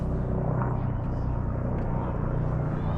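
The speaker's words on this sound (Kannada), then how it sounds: "ಹೆಲಿಕಾಪ್ಟರ್ ಹೋಗ್ತಾ ಇದೆ" A helicopter passing over a hotel balcony in the Manali hills makes a distant, steady low rumble that lasts the whole stretch with no change in level.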